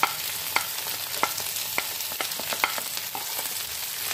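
Dry spices fry in a pan: chilli powder, salt, garlic paste and turmeric powder. Soft crackling sizzle runs steadily throughout, broken by clear clicks and scrapes of stirring.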